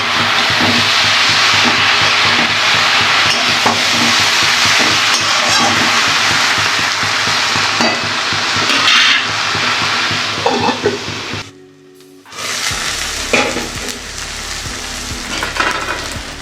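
A dish with roasted cumin powder sautés in a pan, producing a loud, steady sizzle and frying hiss with stirring scrapes throughout. The sizzle drops out briefly near the end, then resumes.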